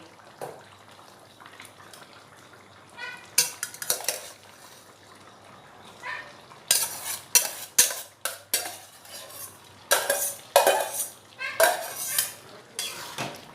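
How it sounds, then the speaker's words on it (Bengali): Fried prawns stirred into a potato and vegetable stem curry in a pot, loud bursts of metal spoon scraping and clattering against the pot in irregular clusters over a quiet simmer. "এবারে ভেজে রাখা চিংড়ি মাছগুলো দিয়ে দেব"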